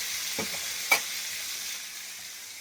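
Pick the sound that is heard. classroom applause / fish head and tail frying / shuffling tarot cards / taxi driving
fish head and tail frying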